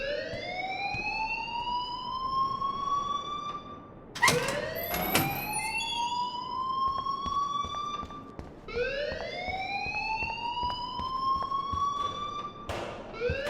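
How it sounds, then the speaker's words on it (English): A school fire alarm in the video game Life Is Strange, rising siren-like wails repeating about every four seconds, loud and close, with clattering sounds between sweeps and no talk. "please turn off that alarm since that's your job"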